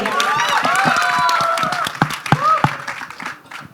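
An audience at a film teaser launch event for Border 2 claps and cheers loudly, with whoops and voices rising over a run of sharp claps that thin out and taper off toward the end.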